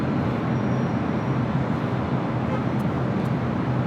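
Emirates Airbus A380 touching down on runway 24 right at LAX, heard as a steady, dense broadband roar at a distance with low rumble, continuous and unbroken throughout, with no voices.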